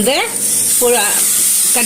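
Chicken sizzles steadily in a pan with tomato and spices, a continuous loud frying hiss under a person talking.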